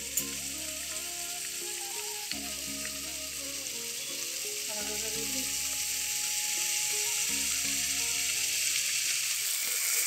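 Spices sizzle steadily in a pan for a Bengali katla fish curry, a constant frying hiss with intermittent scraping and stirring sounds close by.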